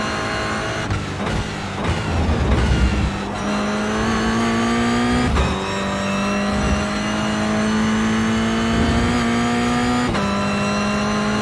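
Race car engine in the iRacing sim holds a steady loud drone with shifting pitch, dropping and rising through gear changes and corners, with occasional brief revs and tire scrub, no talk.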